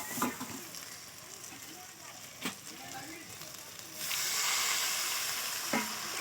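Chopped tomato and garam masala sizzle in a hot pan for a Bengali chela fish curry, a steady low hiss that swells louder midway, with a few clinks of a spoon against the pan.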